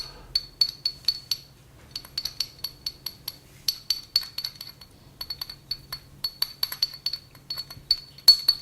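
A small tool mixing pigment with a little water in glassware, giving rapid rhythmic bright clinks and taps against the glass in quick bursts, close and clear with short pauses and a low hum underneath.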